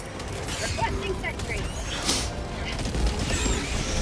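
Gunfire bursts in Helldivers 2 as a squad fights bugs amid incendiaries and airstrikes, with dense overlapping battle noise, mechanical clatter and booms running continuously throughout, and speech mixed in.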